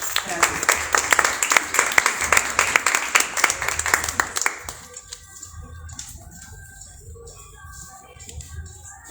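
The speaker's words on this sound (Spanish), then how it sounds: "Un aplauso para nuestro exponente." An audience at a lecture applauds for a speaker, brisk clapping for about four and a half seconds that cuts off abruptly, followed by quieter room sound with faint voices.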